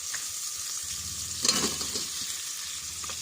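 Pork ribs dropped into a hot pan for a rib biryani, giving a burst of sizzling around the middle of the clip over a steady low frying hiss, moderately close, with no talk.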